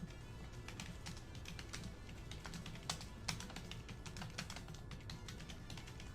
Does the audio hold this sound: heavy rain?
no